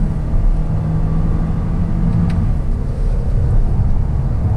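A 2020 Toyota Corolla climbs a mountain road in third gear, its engine a steady, loud low drone and rumble with constant road noise, with no voices.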